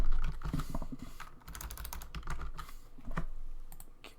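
Computer keys clatter in quick, uneven bursts of typing close to the microphone, with short pauses between runs of keystrokes.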